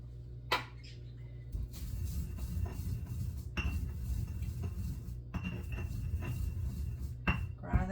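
Rosemary is ground in a heavy kitchen grinder, making repeated scraping, rattling bursts with sharp clinks, steady and close, with no talking.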